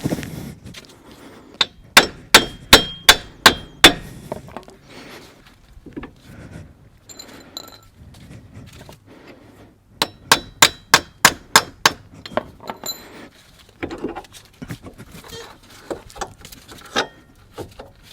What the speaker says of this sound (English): you notice we're using brass punches and brass hammers not to cause any damage to this